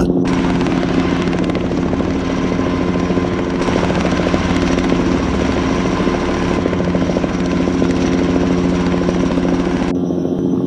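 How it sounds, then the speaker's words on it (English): A delivery drone flies in and arrives, its propellers producing a loud, steady buzzing whine close by that holds for about ten seconds before cutting off abruptly at the end. "The official USDS drone delivery has arrived."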